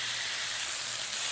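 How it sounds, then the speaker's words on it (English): Steak strips sizzling steadily in a hot pan, a continuous loud hiss of frying with no break and no voices. "Ooh, listen to that sizzle."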